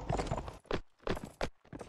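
Horse hooves clip-clop in the medieval combat video game Balestra, heard as a few loud, close, evenly spaced hoofbeat bursts with brief silences between them.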